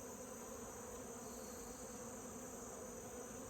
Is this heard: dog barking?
no